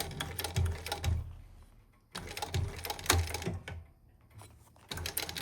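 A sewing machine stitches straight across a fabric edge. It runs in close, rhythmic bursts separated by short pauses and sounds near and fairly quiet, with no talking.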